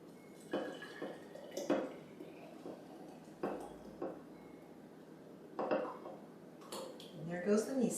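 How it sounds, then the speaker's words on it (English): Miso vinaigrette with parsley, black pepper and Italian seasoning is poured into a saved jar, giving scattered drips and light clinks of glass and utensils in a quiet kitchen, with a voice talking between them. "And then we're going to pour it into our jar that we've saved."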